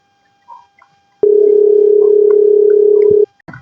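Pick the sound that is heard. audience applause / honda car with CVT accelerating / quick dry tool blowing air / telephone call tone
telephone call tone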